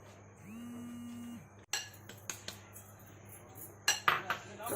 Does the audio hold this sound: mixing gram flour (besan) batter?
yes